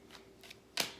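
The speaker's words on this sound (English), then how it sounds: "let's go ahead and get these cards shuffled" A deck of tarot cards is shuffled in quick riffles, three short papery bursts with the last one loudest, faint and close in a quiet room.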